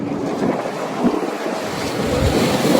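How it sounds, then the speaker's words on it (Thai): Strong wind buffets the microphone on an open deck of a passenger ferry crossing Hong Kong waters, a steady loud roar with wave and engine rumble underneath, no voices. "ลมแหงสุดเลยเพื่อนๆ"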